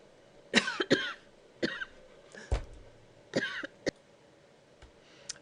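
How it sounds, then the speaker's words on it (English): Several sharp coughs in short bursts, spaced unevenly with pauses between, close to the microphone, with a throat-clearing sound among them. "so sorry about that coughing attack there"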